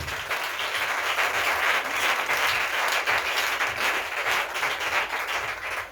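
A congregation at a miracle and healing prayer service applauds the Lord, dense sustained clapping from a large crowd filling the space, loud and steady throughout with no talk.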